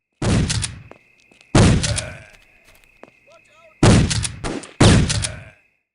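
A Remington 870 shotgun from Secret Service: In Harm's Way fires four loud, sharp blasts, each followed by a brief decaying tail. The shots are spaced unevenly, with mechanical clacks and a steady tone between them.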